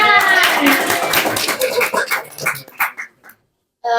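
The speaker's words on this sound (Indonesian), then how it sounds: "Tepuk tangan" Clapping from a small group during a casual Valentine's-edition chat show, starting as a dense burst under voices and thinning into scattered claps before fading to quiet, then a short loud noise at the end.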